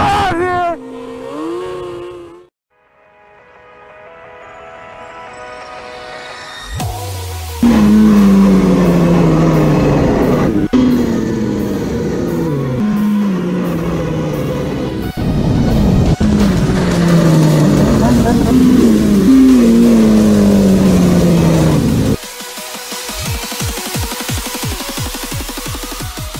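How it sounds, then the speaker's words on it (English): Motorcycles doing burnouts in a heavy thunderstorm, with loud repeated revving sweeps rising and falling over roughly twenty seconds, some engine noise near and sustained, with voices partly audible. "burnouts, baby."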